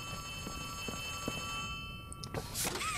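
Phone ringing inside the horror video game Poppy Playtime Chapter 3, a steady electronic ring tone holding over a low background hum, with brighter louder bursts near the end.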